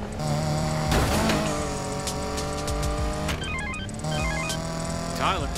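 A car driving in the Need for Speed video game, a loud steady engine drone with shifting pitch and a brief squeal near the end, with a voice talking over it.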